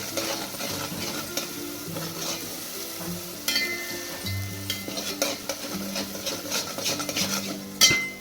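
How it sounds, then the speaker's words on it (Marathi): Spice paste for a spicy Maharashtrian bazaar-style amti stirred and fried in oil with a spatula, steady sizzling under repeated scraping strokes of the spatula against the pan, close and moderately loud. "ही पेस्ट आपल्याला तेलामध्ये परतून घ्यायची आहे"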